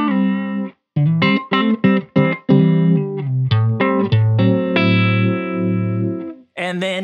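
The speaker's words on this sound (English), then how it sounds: "So without this illuminated, you are in the classic Uni-Vibe sound." Electric guitar played through a Thorpy FX ER-2 Uni-Vibe pedal in its chorus mode, giving short picked phrases and sustained chords with a swirling, modulated tone, loud and close, ending in a long held chord.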